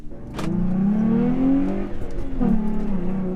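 Supercharged Jeep Wrangler JL engine rumbling close by as it backs out of a garage, rising in pitch with a couple of throttle blips, loud and alone.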